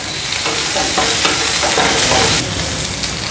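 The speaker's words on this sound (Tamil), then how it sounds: "தக்காளி ஆட் பண்ணிக்கோங்க." Tomatoes frying in a pan for a cauliflower, potato and capsicum gravy, with a loud steady sizzle, stirring scrapes throughout and a brief surge of louder frying near the end; no talking.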